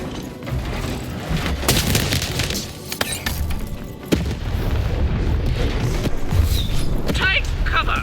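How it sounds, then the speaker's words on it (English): Cannons fire in the video game Lost in Random, with heavy booms and crashing impacts over continuous rumbling game action, and a voice talking in places. "Shoot the button to fire the cannon."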